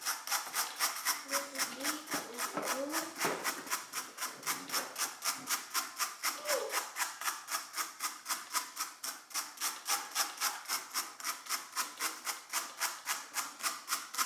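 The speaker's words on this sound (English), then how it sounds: "To brush the fiber off your carder, I find this brush cleaner is definitely extremely effective." A brush cleaner scrapes alpaca fiber off a hand carder in steady back-and-forth strokes, a rapid regular rasping rhythm held close throughout, with a little faint voice murmur early on.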